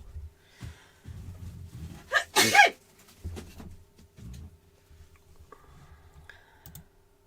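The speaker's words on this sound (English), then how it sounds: "I'm going to sneeze as well." A single sharp sneeze up close, preceded by a quick intake of breath, in an otherwise quiet room with faint clicks.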